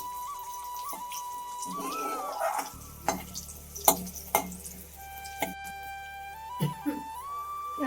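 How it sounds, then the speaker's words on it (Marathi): Finely chopped onion sizzles in a pan for dal palak with garlic, a soft frying hiss broken by sharp clinks and stirring scrapes of a utensil, heard close with no talking. "आता आपण बारीक चिरलेला कांदा टाकायचा"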